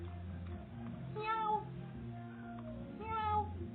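A cat gives two distinct meows about two seconds apart, each drawn out and clear against a faint, muffled background hum.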